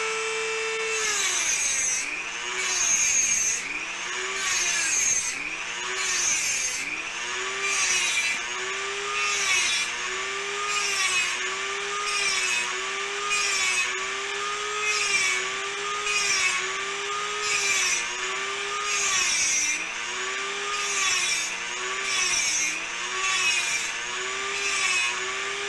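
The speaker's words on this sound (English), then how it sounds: "Take your Dremel, and you get pretty close to the template where you're looking at it straight down" A Dremel rotary tool cuts copper along a template, producing a close, continuous high whine with a repeating rhythmic rise and fall as the bit is pushed through the metal in strokes.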